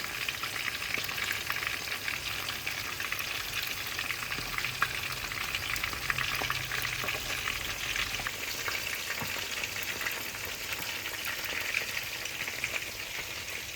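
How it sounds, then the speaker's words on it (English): Red snapper fries in hot oil in a pot for a Jamaican fry fish dish, giving a steady, even sizzle and crackle throughout with no talking. "we're gonna make our fish just fry up for about 7 to 10 minutes on each side"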